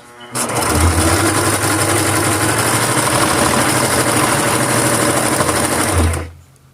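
A sewing machine stitches a steering wheel cover, running as one loud, continuous mechanical whir for about five seconds, then stopping.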